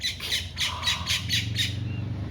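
A bird squawks six times in a steady rhythm, loud and close, in the Monteverde cloud forest, with a low hum of background noise underneath.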